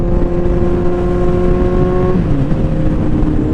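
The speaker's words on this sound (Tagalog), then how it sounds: "ang lalakas at tambutso nila!" Kawasaki Z1000R motorcycle exhaust running loud and close, a steady deep engine drone that holds constant before the pitch drops and settles into a lower rumble.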